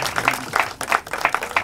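An audience applauds at the launch event for a ghazal, a short burst of mixed, overlapping hand claps, fairly close and lively, with no talking over it.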